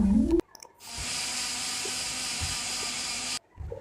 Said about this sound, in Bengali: এই শব্দটা হচ্ছে চাল গুঁড়ো করার শব্দ।